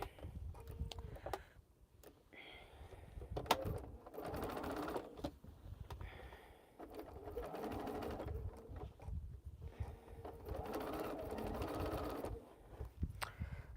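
A sewing machine runs in bursts while stitching a long quilt seam, with quiet pauses between stretches of steady mechanical whirring and some light clicks, close and moderately loud.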